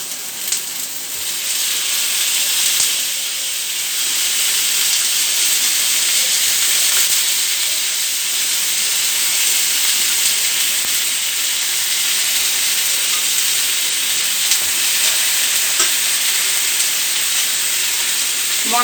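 Marinated hilsa fish sizzling in hot oil in a pan alongside fried eggplant, a steady broad hiss and crackle of frying that runs continuously at close range with no talk.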